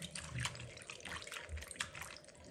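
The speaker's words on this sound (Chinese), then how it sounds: "加入清水，再用手搓洗搓洗，淘洗干净" Hands rub and rinse food ingredients in a basin of clear water, making close, irregular sloshing and splashing with a few louder swishes and no voices.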